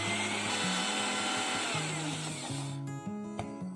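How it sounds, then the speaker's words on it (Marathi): Mixer grinder whirring as it coarsely grinds a chili masala stuffing for okra, a loud steady motor drone with shifting pitch that cuts off near the end, leaving a brief clatter. "अजून एकदा आपण मिक्सर फिरवून घेऊया।"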